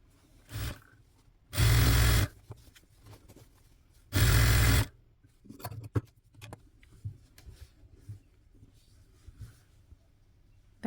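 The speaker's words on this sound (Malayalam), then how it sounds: "റോങ് സൈഡിൽ വെച്ച് തയ്ച്ചിട്ട് നല്ല പുറത്തേക്ക് മറിച്ചിട്ട് കൊടുക്കാം" A domestic sewing machine stitches cloth piping onto a table mat made from old fabric, running in two loud, steady bursts of about half a second and a second, with quieter handling clicks and fabric rustles between them.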